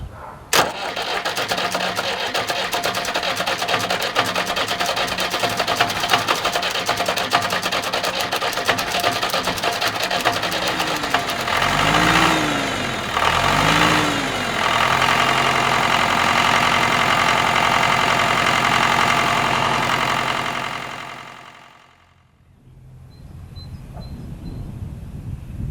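A preheated tractor engine, just serviced with an oil change, turns over and runs loud and steady for about twenty seconds, with a couple of brief revving dips midway, before cutting off and leaving near silence.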